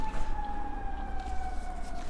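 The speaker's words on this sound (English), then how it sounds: "Sorry, sirens." A wailing emergency siren passes by outdoors, one steady drawn-out tone sliding slowly downward, fairly loud over low traffic rumble with no talk.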